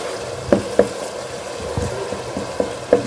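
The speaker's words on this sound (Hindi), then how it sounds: "ये कीमे की भुनाई हो चुकी है" Minced meat (qeema) browning in a pan for a white lobia qeema dish, a steady close sizzle with occasional sharp knocks of a spoon scraping and stirring against the pan.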